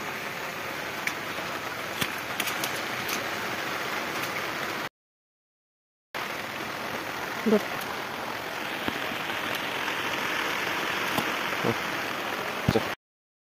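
Steady rain hiss on surfaces, constant and moderately loud, briefly cutting out partway, with a couple of faint knocks, during traditional mud crab catching in the Konkan region.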